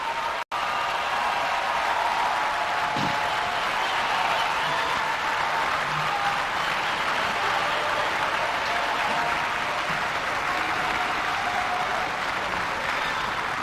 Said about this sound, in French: par des ovations et des applaudissements très nourris